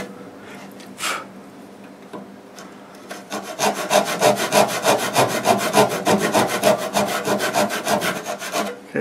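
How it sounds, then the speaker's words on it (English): A hand saw cuts a kerf in a wooden board with close, rhythmic rasping strokes that start hesitantly and then settle into a fast, even back-and-forth sawing. "So I'll use that guide and just start cutting this a kerf."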